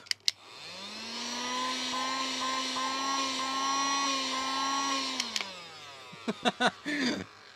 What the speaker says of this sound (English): That's what it sounds like.